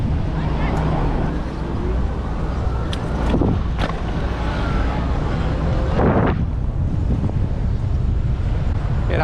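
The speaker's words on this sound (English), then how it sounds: "Got some wind, so we'll see how that sound does." Wind buffeting a GoPro Hero 8 helmet-mounted on a rider of a Gen 1 Zooz UU 1100 scooter, a constant loud rumbling roar with a few sharp knocks and bumps, and a voice talking over it.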